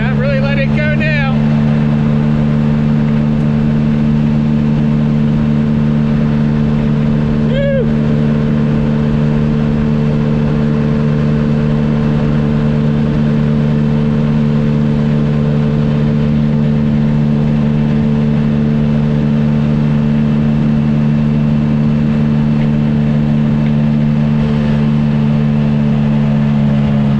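A Honda Ruckus scooter engine runs at full throttle, giving a loud, steady, droning hum that holds constant for nearly half a minute, with a brief flutter early on.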